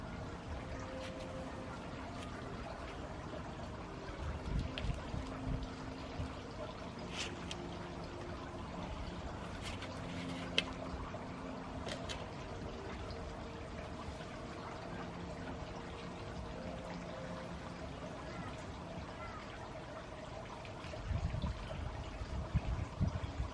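Liquid pours and trickles gently into a pot already holding soil, a soft, fairly quiet stream with small splashes and no talk.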